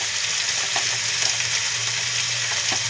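Spice paste for a homestyle goat liver, fat and soybean curry frying in a pan, giving a steady, dense sizzle with faint scraping stirs throughout, close and continuous with no talking.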